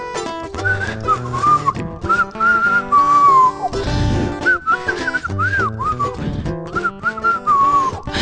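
A woman whistles a tuneful melody over a band's accompaniment, her clear, wavering notes rising and falling in short phrases above steady instruments.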